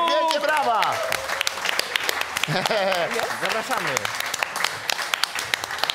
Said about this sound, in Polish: Zróbcie wielki hałas. Krzysztof Wundru, wielkie brawa.